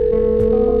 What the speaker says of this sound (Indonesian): Oh, ada telepon Polisi Iyo.